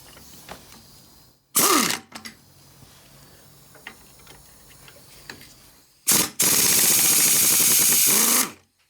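Wrench working a nut off the brake back plate of an MGB GT, heard as two loud harsh mechanical bursts: a short one early, then a longer sustained run near the end, with quiet clicking and ticking between.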